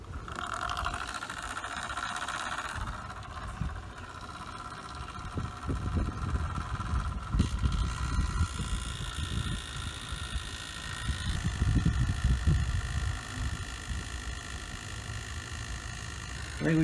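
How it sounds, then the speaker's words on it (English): An oil pump fills an Infiniti differential, giving a steady mechanical whir and rattle that runs continuously for about seventeen seconds, with faint background noise. "I've turned the pump on there."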